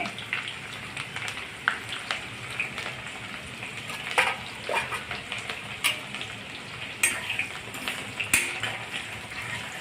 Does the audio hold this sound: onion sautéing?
yes